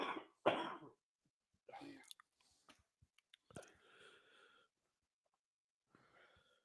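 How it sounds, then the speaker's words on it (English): A couple of harsh, close coughs at the start, followed by quieter throat sounds, breathy noises and brief murmurs with silence between. "Your cough sounds heavier"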